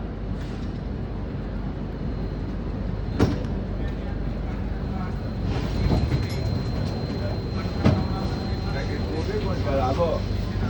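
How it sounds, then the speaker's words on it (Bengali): The 12024 Patna-Howrah Janasatabdi Superfast Express pulls out of Durgapur station with a steady low rumble and rattling carriages. Occasional clanks and a brief squeal cut through, and passengers talk faintly inside the coach. "আমাদের ট্রেন ছেড়ে দিয়েছে।"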